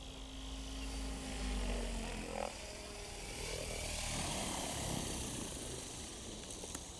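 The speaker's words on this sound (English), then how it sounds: "Motor idle." SAB Raw Piuma RC helicopter motor idling outdoors in calm conditions, a steady faint whirring drone with a low hum that holds evenly throughout.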